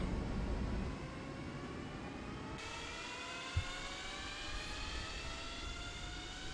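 Engines 3 and 4 of a JARDesign A340-500 start in a flight simulator, a steady jet whine whose tones slowly rise as the engines spool up, over constant airflow hiss, with a small click midway and no voices.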